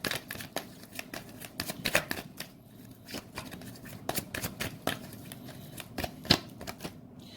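Tarot cards are shuffled in repeated papery riffles and slaps, with bursts of quick flicking separated by short pauses, close and fairly loud with no talking.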